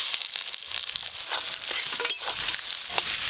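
Chopped onion frying in hot mustard oil in a pan, a steady close sizzle with crackling bursts and occasional stirring scrapes, no talk.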